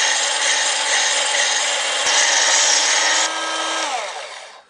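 A Leiming electric sharpener grinds a blade drawn back and forth, a loud steady abrasive whine with a constant motor tone that winds down and fades at the end.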